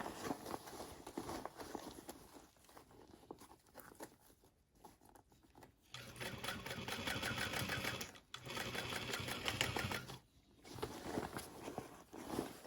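A sewing machine stitches a crossbody bag with lining and exterior fabric, running in long steady rattling bursts that stop and restart a few times, close and fairly loud, with no talking.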